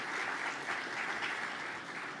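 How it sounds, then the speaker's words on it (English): An awards-ceremony audience applauds together, a dense, even wash of clapping that holds steady and fairly loud throughout, with no voices over it. "I think it is worthy of our applause."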